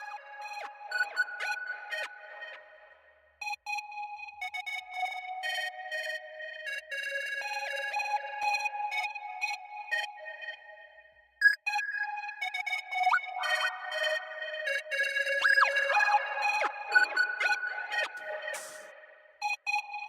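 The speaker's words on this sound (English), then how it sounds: "So this is supposed to be emulating the chorus on the Juno." A synth played through a TAL chorus plugin emulating the Juno chorus plays wavering, shimmering melodic notes in phrases with short pauses, moderately quiet and alone.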